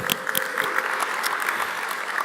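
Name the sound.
congregation applause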